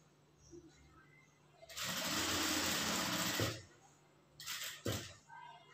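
A sewing machine runs a straight seam along the shoulder joint of a cloth garment, one loud burst of about two seconds followed by two short runs, close up over a faint background hum.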